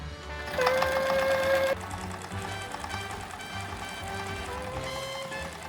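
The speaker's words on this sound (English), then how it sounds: "I don't know how to use the sewing machine" A sewing machine runs steadily at close range sewing a costume tail, a fast even mechanical rattle that starts loud, then continues slightly quieter throughout.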